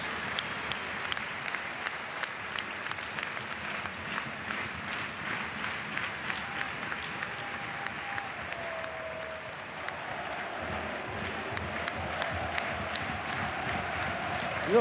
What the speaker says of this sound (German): das ist unschwer anhand des Klatschens hier im Gerhard-Hanapi-Stadion zu erkennen